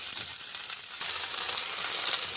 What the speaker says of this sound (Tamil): இப்போ நம்ம கட் பண்ணி வச்ச கருவேப்பிலை கொத்தமல்லியை ஆட் பண்ணி வதக்கிக்கலாம்.